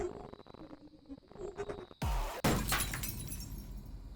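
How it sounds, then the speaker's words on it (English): A glass bottle shatters with a sharp, loud crack followed by a spray of tinkling shards, after a quieter stretch of faint background music. "The bottle shatters, utterly and completely, with a mighty crack."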